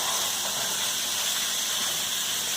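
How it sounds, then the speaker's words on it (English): Ground beef for beef stroganoff sizzles loudly in a hot pan, a dense and continuous frying hiss that holds steady throughout with no talking. "going to add our ground beef and start really, hear that sizzle?"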